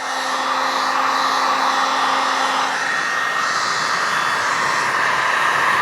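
A heat gun blows a steady, loud, roaring hiss of hot air as a pipe is heated for a small dog tug toy, continuous and close with no pauses.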